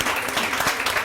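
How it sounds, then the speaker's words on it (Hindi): Studio audience applause on a Pakistani morning television show: dense, steady clapping from many hands that holds at an even level throughout, with no voices over it. "इनके लिए बहुत सारी तालियां"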